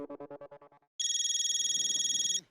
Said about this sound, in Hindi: मोबाइल पे बजी घंटिया